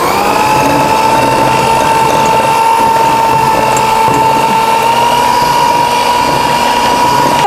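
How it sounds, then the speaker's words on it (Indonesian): An electric mixer whirs steadily as it beats tart batter with alpha gel until fluffy, a continuous close, loud motor hum with a high whine holding through the whole stretch and no talking. "Semua bahan ini dimixer hingga mengembang."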